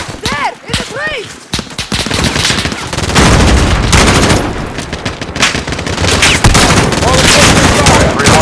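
Heavy gunfire in a Modern Warfare video game battle: rapid automatic bursts and booming shots pile into a loud, dense barrage, with shouted voices near the start.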